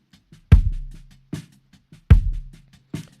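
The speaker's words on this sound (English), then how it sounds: "So the kick out on its own sounds like this." Soloed kick drum from a dry, vintage-sounding kit, captured by a kick out microphone: four deep, punchy thumps in a loose beat, with faint bleed from other drums between hits.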